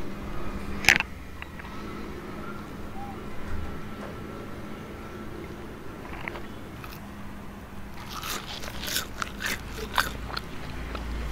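Crisp crunchy bites into fried urad dal medu vada, a sharp bite near the start and a cluster of crunching bites toward the end, close and fairly faint.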